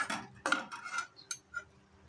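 Goat brain curry being stirred in a pan with a handful of coriander leaves, a utensil scraping and clinking against the metal in several close, uneven strokes with short pauses between.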